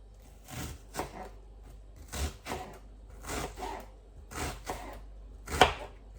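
A knife slices onions thinly on a board for a Caribbean dish, giving about eight soft, close chopping strokes in an uneven rhythm, alone and without speech.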